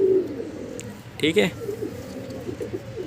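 A pigeon coos in a short soft burst near the middle, while someone talks in Hindi before and after it.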